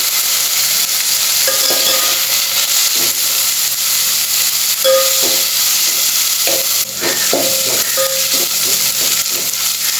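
Onion and tomato sauté loudly in a pan, a constant bright hiss and steam sizzle close up, with scattered clicks and scrapes of stirring throughout.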